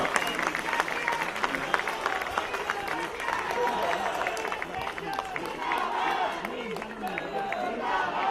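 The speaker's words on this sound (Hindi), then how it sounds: "जोरदार तालियों के साथ स्वागत करिए" Political party office audience claps steadily as a speaker arrives on stage, a dense sustained patter of many hands at moderate distance, with some voices mixed in.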